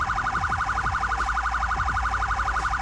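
Third siren setting on a 2002 Chevy Impala Sheriff patrol car in Roblox Greenville, a fast, steady warbling wail repeating several times per second, loud and close with a low engine rumble beneath, no voices.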